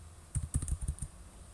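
Quick typing on a computer keyboard: a short run of about eight close, crisp key clicks in uneven rhythm, fairly quiet and heard alone.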